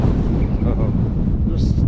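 Loud, rumbling wind buffeting the microphone on the coast of Westray, Orkney, a heavy low roar throughout the short moment, with faint traces of voices underneath.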